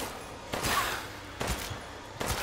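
Isolated gunshots in the Resident Evil Village video game, three sharp, separated blasts spaced roughly a second apart against a quiet background.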